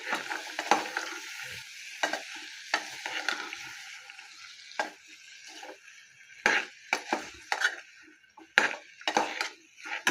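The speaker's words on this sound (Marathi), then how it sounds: "ते मी एक बाउल ओले पावटे घातलेले आहे, ते छान परतून घ्यायचं आहे" Washed fresh pavta beans sautéing in a pan, a soft sizzle punctuated by repeated irregular scrapes and taps of a spatula stirring, close by, with no voices.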